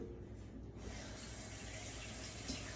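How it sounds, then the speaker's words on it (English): Water running steadily into a cooking pan for homemade chicken soup, a continuous soft faucet-like pour and splash, fairly quiet and unbroken, with no talking. "I'm going to add a little water in this pan"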